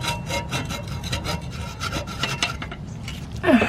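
A hacksaw cuts through a steel transmission cooler line on a Ford F150, rapid rhythmic rasping strokes at close range, with a sharper scrape as the cut ends.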